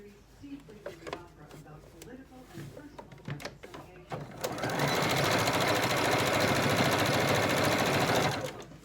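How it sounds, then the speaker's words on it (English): A sewing machine top-stitches along the upper edge of a fabric mask, holding the lining and main fabric together. A voice speaks first, then the machine's close, loud, steady whirring stitch runs without a break for about four seconds. "going to stitch it along the top edge. You're going to make a top stitch."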